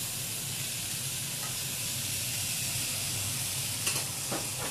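Spinach sizzling and frying in a hot pan still greasy from cooked pork, a steady close hiss with brief stirring scrapes near the end.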